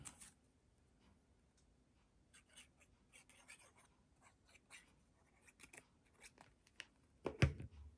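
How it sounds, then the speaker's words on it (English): Scissors cutting paper tags at close range, with scattered light snips and rustles that build to a sharper, louder cut near the end, with no clear speech. "I'll just cut with my scissors that do not let anything stick like that"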